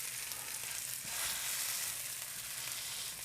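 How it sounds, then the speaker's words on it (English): Potatoes sizzle and crackle steadily in hot oil in a pan, a continuous hissing fry with no talking. "And then listen to that sizzle."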